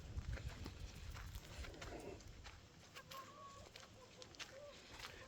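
Hens in a barnyard pen scratching at feed, soft scattered clucks and rustling movement at low level throughout, with no talking.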